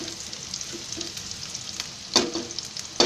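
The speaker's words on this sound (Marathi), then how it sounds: "कांदा शिजतो आहे" Onion fries in a pan and is stirred now and then, giving a continuous close sizzle with a few louder scraping bursts toward the end. No one speaks.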